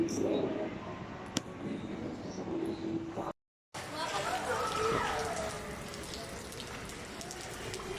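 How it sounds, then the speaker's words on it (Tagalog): Dense, steady downpour of heavy rain with a brief gap of silence midway; faint voices mingle under the constant hiss. "Sobrang lakas ng ulan."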